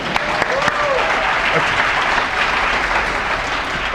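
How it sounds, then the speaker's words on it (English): An audience at a Green New Deal town hall in New York City claps steadily for the full stretch, a dense, even roar of applause at moderate loudness with no talk over it. "You can clap for that too"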